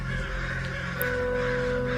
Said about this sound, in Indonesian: Burung-burung itu terus berterbangan menuju sebuah tempat yang memang menuju ke sebuah tempat